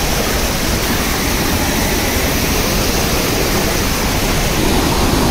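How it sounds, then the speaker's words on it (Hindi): Aadoshi waterfall near Mumbai, a loud constant broadband roar of falling water that fills the whole stretch without any break or voices. "और वो रहा वाटरफॉल, हमें वहाँ जाना है"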